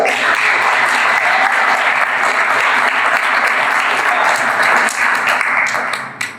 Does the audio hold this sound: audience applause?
yes